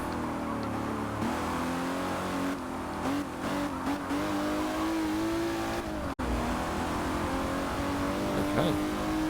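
Aston Martin DBR1 classic race car in the Forza racing game, its engine droning steadily at high revs through a lap with pitch rising and dipping, a brief cut partway, loud and close throughout.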